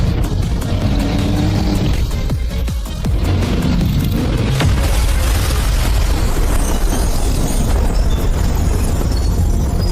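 A mecha cannon fires in a dense, roaring blast, a sustained heavy rumble with crackling bursts that stays loud and close for the whole stretch.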